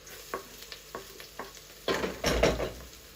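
Onions, ginger and garlic sizzle softly in a pan for a Bulgarian stewed red cabbage, with a few light scraping stirs, then two louder bursts of stirring and frying near the end.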